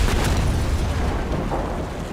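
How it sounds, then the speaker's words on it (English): Bombs falling and exploding in the War Thunder game during a tank battle, a continuous heavy rumbling roar of blasts that stays loud and fairly steady throughout, with no talk over it. "move out of the way of the bombs that are falling"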